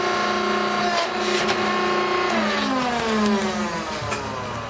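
A 42-ton hydraulic press driven by a 10-horsepower single-phase 220-volt motor hums loudly and steadily, its whirring pitch rising and falling, in a workshop with some background noise.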